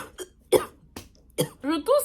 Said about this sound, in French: Je tousse et j'ai le hoquet en même temps.